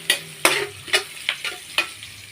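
Onion is stirred in a hot pan while cooking chicken adobo ginataan, six sharp scraping stirs with short sizzling bursts, close and fairly loud, no voices.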